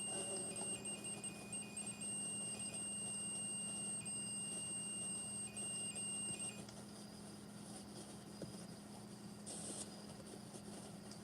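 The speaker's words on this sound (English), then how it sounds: "the REM pod did just go off, so that could have been the ringing noise you just heard" A REM pod paranormal detector rings with steady high electronic tones for about six seconds, then cuts off abruptly, leaving a low background hum.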